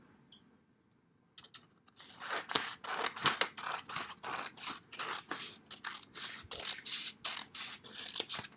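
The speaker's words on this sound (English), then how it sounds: "fold it in half, and then you're going to cut on the folded line" Scissors cutting along the fold of a folded piece for a woven picture craft, a close series of crisp snipping and scraping strokes in a steady rhythm after a quiet start.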